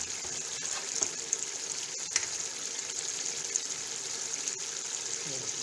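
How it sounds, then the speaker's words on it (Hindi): Vegetables, including cauliflower, sizzle and fry steadily in a pan while vegetable pulao is cooked, a continuous close hiss with occasional stirring clicks throughout. "अब हम इसमें शामिल करेंगे और वेजिटेबल्स डालेंगे।"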